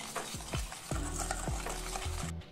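Powdered sugar whisked into eggless red velvet cupcake batter in a bowl, giving brisk, repeated close-up stirring and scraping strokes over a soft tonal background.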